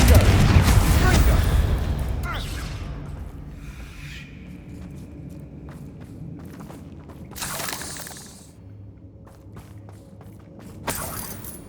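A Confringo fire spell blasts with a loud, booming explosion in Hogwarts Legacy, heaviest at the start and tailing off, followed by a few fainter bursts and rumbles over game ambience.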